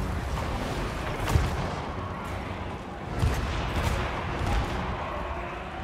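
Dwarf artillery auto-firing in a Total War: Warhammer 2 siege battle, heard as a dense, continuous rumble of distant booms and impacts with occasional stronger thuds, no talking over it.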